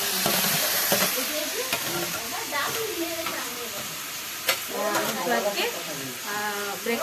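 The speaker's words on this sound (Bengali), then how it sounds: "এখানে আমি চাউমিন করার জন্য আনাজগুলো ভেজে নিচ্ছি আগে" Vegetables frying in a pan for chow mein, a steady close sizzle and hiss with occasional stirring scrapes, while a voice talks over the cooking throughout.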